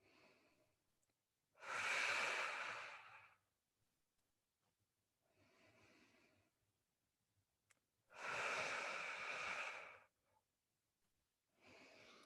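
Breathing during a hips-and-shoulders exercise routine, slow deep breaths in and out, two strong long exhales alternating with softer breaths, close and with no talk.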